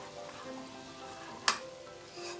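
Butter simmering down into ghee in a pot at home, a soft steady bubbling sizzle with one sharp pop partway through, close and fairly quiet with no talking.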